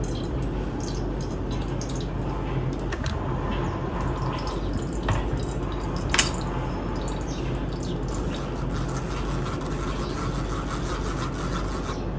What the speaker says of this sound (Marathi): आता याला मी ज्यूसच्या चाळणीमध्ये टाकून याला मी व्यवस्थित गाळून घेते